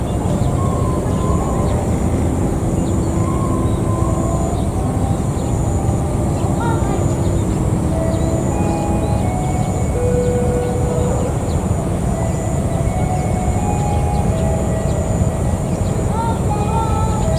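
A train pulls into Cimekar station on the Cicalengka to Padalarang line in Indonesia, a steady, loud rumble of wheels and engine sustained throughout with faint tonal squeals rising and falling above it.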